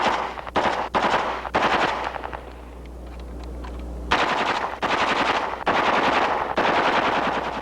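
An HK machine gun fires from a mount in the 1970s, loud rapid bursts of automatic fire with a short pause and a low hum before several more bursts.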